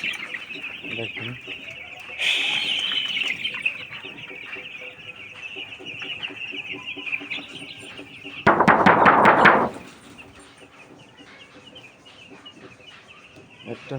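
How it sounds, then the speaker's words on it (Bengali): Chickens clucking and calling inside a third-floor poultry farm housing young birds, a busy continuous chorus with a sharp loud burst near the middle, room noise throughout. "তিনতলায় মুরগি কিভাবে হাঁপাচ্ছে দেখেন"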